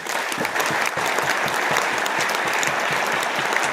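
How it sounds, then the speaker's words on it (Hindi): Sustained audience applause for Doctor Leem fills the room, dense and even throughout with no talking over it. "तो डॉक्टर लीम के लिए एक बार ताली होना चाहिए"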